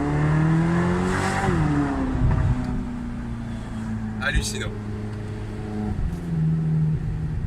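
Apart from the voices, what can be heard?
V8 sports car engine revving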